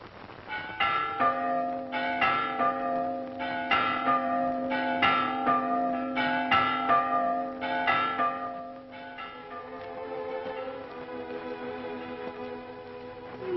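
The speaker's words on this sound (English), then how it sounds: "Ah, the bells." Church bells ring out across a quiet valley near the mission of San Fernando, a series of rich, overlapping peals struck in a slow rhythm that fade into a lingering hum.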